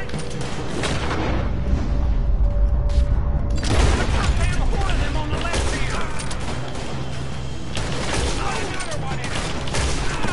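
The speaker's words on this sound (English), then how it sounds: "Where are these shots coming from?" Gunshots ring out in Red Dead Redemption 2, a few heavy booming reports spaced several seconds apart over a dense, busy game soundscape.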